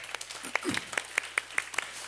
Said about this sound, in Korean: 박수 한 번 더 할게요.